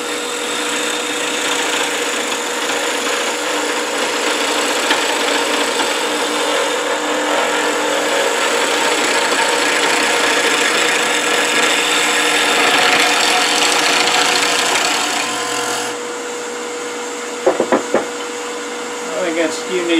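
Wood lathe spinning a spurtle blank while a skew chisel cuts along it, a steady loud rubbing hiss and whir that runs for most of the stretch, then drops away near the end to a few sharp knocks.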